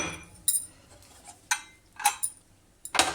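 Ginger, garlic and two green chillies pounded for mutton bone soup: about five sharp, close, clinking strikes at irregular half-second intervals, with quiet pauses between them.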